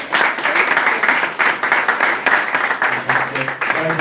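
Audience at a startup pitch event applauding, a steady wash of clapping from a crowd in a hall, with a voice speaking over it.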